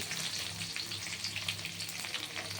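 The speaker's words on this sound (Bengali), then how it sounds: "এইবার আমি এই পেঁয়াজটা ছেড়ে দিলাম" Onion frying in oil alongside browned garlic, a continuous busy crackle and hiss with fluttering pops close by, steady and fairly loud with no talk.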